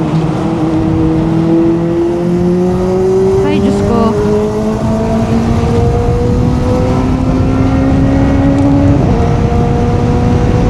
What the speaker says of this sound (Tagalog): So ito palang burnout exhaust na merong resonator sa mid-pipe. Hindi pala siya ganun kaingay, no?